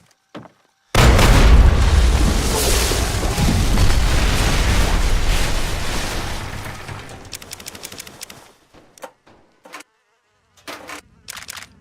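A loud explosion in Fallout 3 blasts shut a hole, booming suddenly and then rumbling and crackling for several seconds before fading into scattered, sharp debris clatters and pops.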